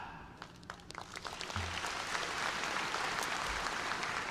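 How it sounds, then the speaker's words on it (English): Audience at a university spring commencement ceremony for education and nursing graduates breaking into applause, building from a few scattered claps into a broad, distant wash of clapping in a large hall. "We're going to encourage you to clap"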